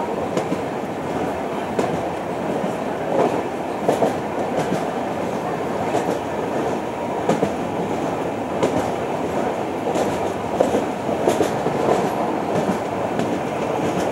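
The Pallavan Superfast Express speeding over the Kollidam River bridge, a continuous loud rolling roar with rhythmic wheel clatter and rattling as the coaches rush across, heard from on board without talk.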